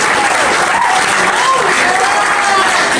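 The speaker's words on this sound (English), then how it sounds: "So round of applause for our coaches." A crowd claps loudly and continuously for the coaches at a youth lacrosse gathering, a dense wash of applause with faint whistle-like tones drifting through it.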